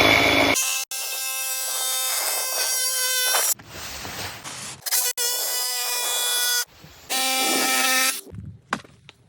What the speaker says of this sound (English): This Sawzall should work.